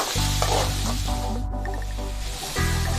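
Sliced onions sauté with salt in a hot pan, a steady close sizzle and crackle running throughout with a brief dip near the end before resuming.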